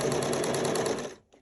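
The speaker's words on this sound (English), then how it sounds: "I'm back stitching at the beginning of the bill and at the end of the bill just a couple times" A sewing machine runs a steady, rapid stitch while back stitching the bill of a six-panel fabric welding cap, then stops abruptly near the end.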